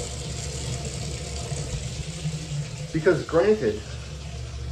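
Hot water runs from a tap into a bathtub in an apartment, a steady rushing flow that carries on under a voice speaking briefly near the end.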